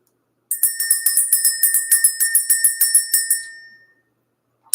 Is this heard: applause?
no